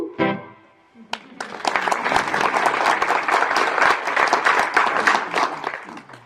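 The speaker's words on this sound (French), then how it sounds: "J'ai été applaudi, je te ferai dire." Audience applause breaking out right after a sung French chanson performance, a dense, sustained wash of many hands clapping close and loud, preceded by a brief sung tail.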